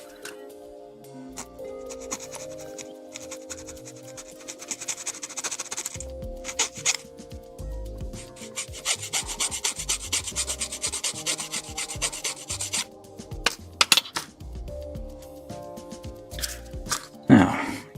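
Light rasping and rubbing sounds come from nubs being gently smoothed off a plastic Gundam model kit part: close, quiet, irregular strokes in short bursts, with a few small clicks.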